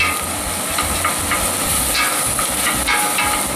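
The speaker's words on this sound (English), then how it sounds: "And then I'll put in my beef stock." Beef stock poured into a hot pan of softened onion and bay leaf for beef morcon, giving a steady, close broadband hiss and sizzle with faint stirring clicks throughout.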